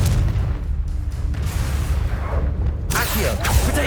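Confringo fire blast spell going off in Hogwarts Legacy, a loud booming burst that erupts sharply near the end amid continuous battle noise and other spell effects, with voices shouting over the fight.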